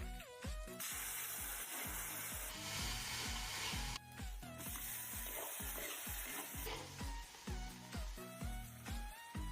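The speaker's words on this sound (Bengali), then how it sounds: "আমি রান্না করছি" Food frying and sizzling loudly in a pan, a steady hiss broken by repeated stirring clatters and scrapes, close and continuous with no talking.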